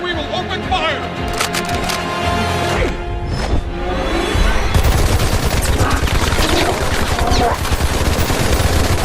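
Soldiers firing guns in X-Men: First Class, dense bursts of machine-gun fire and sharp cracks that grow heavier midway, loud, with shouting voices and score mixed in.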